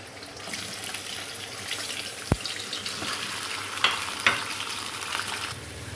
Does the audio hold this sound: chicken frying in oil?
yes